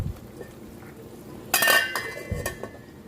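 A pot of pork sinigang with okra and kangkong gets its lid set back on, making a sharp, close metallic clatter followed by a couple of lighter clinks against a quiet kitchen background.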